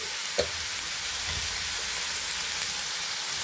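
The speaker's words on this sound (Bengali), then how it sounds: "আমাদের মশলাগুলো ভাজা হয়ে গেছে, এখন আমরা সিমগুলো দিয়ে দিব এর মাঝে" Spices and broad beans fry in a pan with a steady, even sizzle, close and continuous, with one brief clink near the start.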